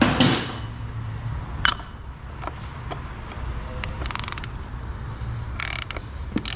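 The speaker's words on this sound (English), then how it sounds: "let's tighten this down to about 300 foot-pounds of torque" Ratchet wrench snugging a bolt on the transmission pan of a Mercedes CLK 350, heard as close, dry mechanical clicks and a few sharp ticks spread unevenly over a low workshop hum.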